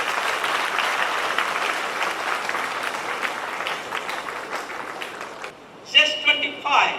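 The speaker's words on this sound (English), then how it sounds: "give him a great round of applause to our chief guest" A student audience at a university youth festival gives sustained, dense applause for the chief guest, steady for several seconds before tapering into a few louder bursts and cheers near the end.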